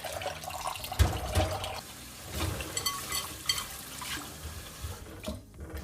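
Rice rinsed under running tap water, with the faucet stream splashing and swishing in a bowl in uneven bursts as the grains are stirred, close and continuous, with no talking.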